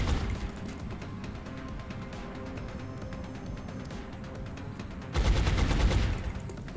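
Rapid bursts of gunfire from the turn-based strategy game XCOM: Enemy Within, a steady crackle of shots that swells into a louder, denser volley near the end, with no talking.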